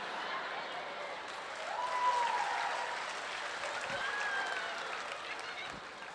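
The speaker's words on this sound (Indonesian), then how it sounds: "Tepuk tangan buat apa itu?" Steady applause from a church congregation, moderately loud and continuous throughout, with a faint voice or tone rising briefly above the clapping.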